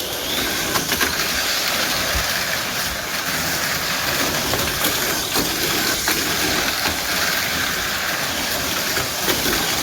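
A Mini 4WD toy race car on a Super FM chassis with a rear hammer damper runs on its track, giving a continuous loud high-pitched whirring hiss that holds steady throughout, without talk.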